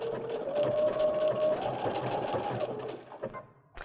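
A sewing machine runs steadily as it stitches reverse appliqué along the edge of a template for a snowflake pillow. The motor whirs nearby and loud, then slows and stops near the end with a few small clicks.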